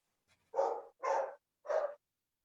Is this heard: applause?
no